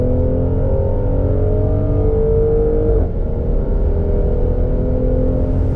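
A 2021 Mercedes-AMG GLC43 Coupe with a V6 engine accelerates on a highway. A loud, continuous engine drone climbs in pitch, shifts briefly midway, then keeps pulling strongly, with no talking.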